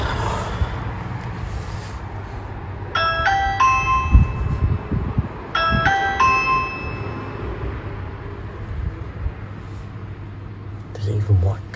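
A camera doorbell chimes twice in quick succession, each a bright multi-tone ding-dong of stacked ringing tones, heard indoors over a steady low background hum.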